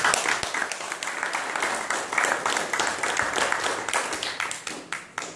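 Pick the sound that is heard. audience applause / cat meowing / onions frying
audience applause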